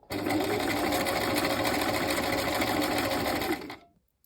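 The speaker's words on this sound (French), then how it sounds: "vous allez coudre votre ourlet à 2 mm du bord et allonger votre point sur 4" A sewing machine runs a steady fast stitch along a hem about 2 mm from the fabric edge with a lengthened stitch, a close continuous whir for roughly three and a half seconds before it stops.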